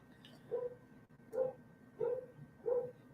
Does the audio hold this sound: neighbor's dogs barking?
yes